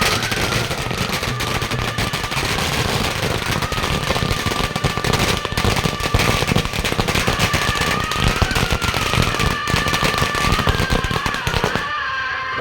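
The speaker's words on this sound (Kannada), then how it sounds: "ಯುವಕರು ಪಟಾಕಿ ಸಿಡಿಸಿ ಸಂಭ್ರಮಿಸಿದ್ದು ಕೂಡ ಕಂಡುಬಂತು" Firecrackers set off by young men celebrating during a procession honouring martyred soldiers, a dense, continuous crackling barrage of rapid pops, loud and sustained right up to the end.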